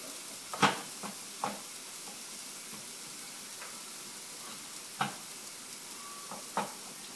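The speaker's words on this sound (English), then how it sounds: "Mix this up, keep it sitting in its juice, otherwise the juice collects. And keep stirring it." Spinach-stuffed portobello mushrooms sizzle in a pan under a steady, quiet hiss, while a few sharp utensil scrapes and clacks from stirring punctuate the frying at irregular intervals.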